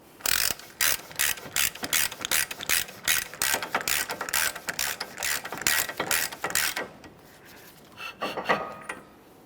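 A hand ratchet snugs up the CV axle nut on a 2014-2019 Toyota Corolla, giving quick, evenly spaced clicking strokes up close, then a pause and a short final burst of clicks.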